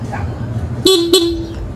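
A loud Bosch Europa electric horn on a Honda ADV 160 motor scooter blares twice in quick succession, the second blast held, close up over a low engine hum.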